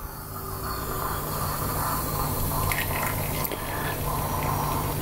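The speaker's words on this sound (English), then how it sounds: "And now we can pour ourselves an espresso." Espresso pours from a one-cup Bialetti Moka Express aluminium pot in a steady, close liquid stream with a soft hiss, continuous and unbroken with no talking.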